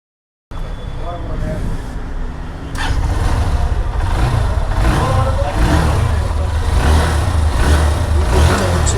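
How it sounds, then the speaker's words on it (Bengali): A 2019-model Hornet motorcycle's engine idles nearby, then rises into a louder, fuller running rumble with slight revving swells that continue to the end. "এই বাইকটার ইঞ্জিন কন্ডিশন আলহামদুলিল্লাহ আমার কাছে ভালোই লাগছে মানে সাউন্ডটা খুব ভালো লাগছে"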